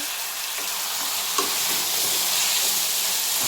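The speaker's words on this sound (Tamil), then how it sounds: "சிக்கன் போட்டு நல்லா வதக்குங்க." Chicken pieces fry in a pan seasoned with salt and turmeric for a chicken gravy, giving a steady, close broadband sizzle with light stirring scrapes and one brief clink midway.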